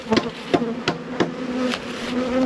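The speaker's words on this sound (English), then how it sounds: "Rammed with bees, look at this one." Honeybees swarm loudly around a crowded hive on a hot day, a continuous close buzzing drone with sharp individual insects darting past the microphone in short, louder bursts.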